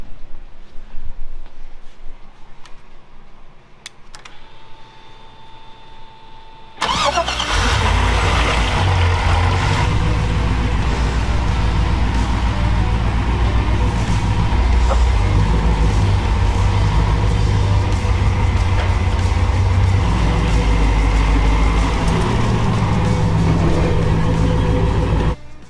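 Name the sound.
Chevy truck engine starting and running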